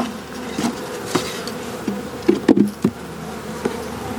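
Steady insect buzzing from a mass of honeybees in a small nuc box, close and continuous, with a few brief louder knocks and bumps scattered through.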